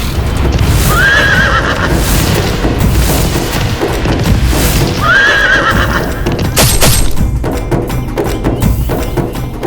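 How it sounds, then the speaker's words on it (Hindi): A horse gallops with rapid clip-clop hoofbeats and twice lets out a loud, rising whinny, set against booming dramatic effects in a mythological drama scene. "इतना सुंदर अश्व, इसकी त्वरित गति तो दर्शनीय है।"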